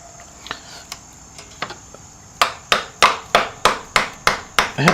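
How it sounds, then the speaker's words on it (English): A screwdriver is struck to drive a spring-loaded footpeg pin through on a motorcycle peg, first a few light scattered taps, then a steady run of sharp metallic hits about every third of a second, close and loud. "Hit that through with a screwdriver."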